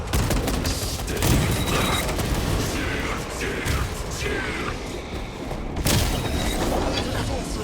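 Frag grenade blasts in the Warhammer 40,000: Space Marine 2 video game ring out amid dense, continuous battle noise and gunfire, with booming impacts throughout and voices talking over the din.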